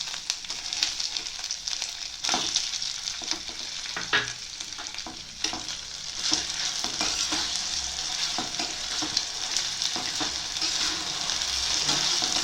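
Tomatoes dropped into ginger and green chillies frying in oil, a bright steady sizzle close by with frequent stirring scrapes and clicks throughout, no one talking.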